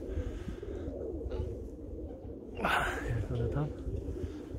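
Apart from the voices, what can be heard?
pigeons cooing in trees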